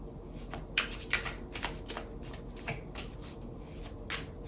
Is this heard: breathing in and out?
no